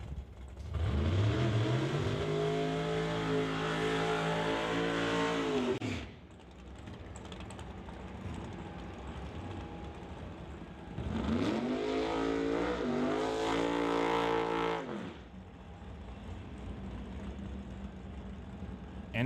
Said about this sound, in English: Bring up the 2008 Pontiac GTO driven by Ken Orser